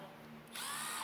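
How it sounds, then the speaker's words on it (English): A Matco cordless power drill spins up partway through, its high motor whine starting abruptly after a quiet lead-in and running steadily at close range, loud against the background. "the drill,"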